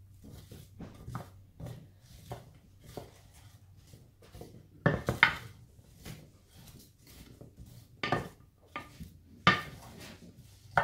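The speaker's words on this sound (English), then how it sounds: "And then we'll give them a good stir and try and get the seasoning on the vegetables" A utensil scrapes and knocks against a pan as seasoned vegetables are stirred, with scattered soft scrapes and several louder clanks spaced irregularly, close and fairly quiet with no talking.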